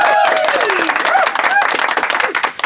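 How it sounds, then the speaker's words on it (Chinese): A canned applause effect from a livestream sound card plays as a dense burst of crowd clapping that thins out and fades near the end, with a voice over its opening. "内置了9种，这是掌声"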